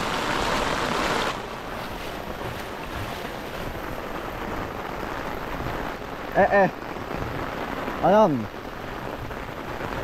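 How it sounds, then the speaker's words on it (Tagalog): Heavy rain pours steadily during a rainy trip to farmland in Tayabas, a dense, constant hiss that fills the whole stretch while a voice briefly speaks twice near the end. "Malakas ang ulan."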